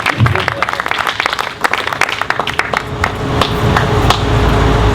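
Audience clapping at a town supervisor campaign speech in Chester, a dense, loud burst of claps that carries on steadily with a crowd murmur beneath.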